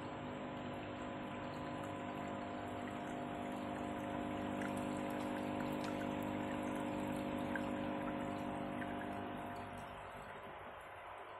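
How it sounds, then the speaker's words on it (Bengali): A hanging aquarium filter runs with water trickling and splashing steadily through it, a continuous soft watery wash over a low motor hum, close and unbroken, fading slightly toward the end. "ফিল্ড আউট হয়ে এবার টারবাইন হুইলটা ঘুরতে থাকবে আর জলটা ফিল্টার হতে থাকবে।"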